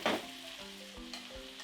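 Onions sweating and lightly browning in a pot for a pork and potato stew give a soft, steady sizzle, with a brief stirring scrape at the start and a few light clinks, heard alone.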